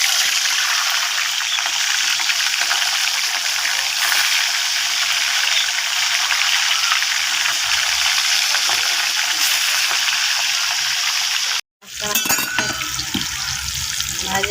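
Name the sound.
rohu fish frying in hot oil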